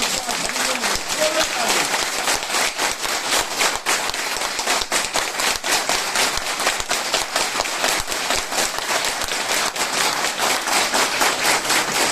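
Participants at a basic course session in Pune break into loud, sustained applause, dense clapping filling the room steadily for the whole stretch with no pause.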